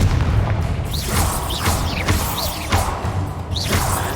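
A Confringo blasting spell explodes in the Hogwarts Legacy video game, with a series of sharp booming bursts and whooshing crashes over a dense, loud combat mix.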